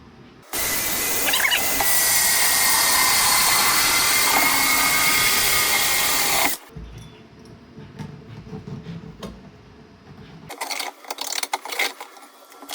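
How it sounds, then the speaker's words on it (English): A 6-inch hole saw cuts a vent hole in a 3D printer cover, a loud, steady high whine lasting about six seconds before stopping abruptly, followed by quieter handling clatter and light rustling. "Here's my 6-inch hole saw."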